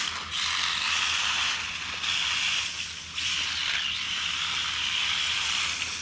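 Rapid mechanical ratcheting clicks from a Tamiya TT-02 RC car's front one-way differential kicking back under braking, sounding in repeated bursts separated by short dips.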